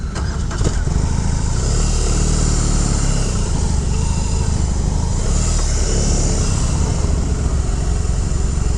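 A loud, deep 2022 BMW R18 1800cc cruiser motorcycle engine starting and rumbling close by, steady and throbbing throughout, with a faint clunk near the start.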